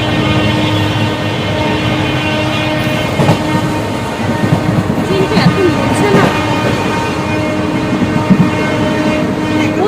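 A train runs past with a loud, steady rumble and rattling of carriages, a sustained horn tone sounding throughout and faint voices underneath.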